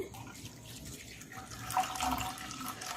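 Milk pours into a pot of rice kheer, a soft, steady liquid trickle and splash, close and fairly quiet with no talk.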